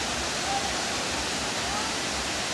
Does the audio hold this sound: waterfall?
yes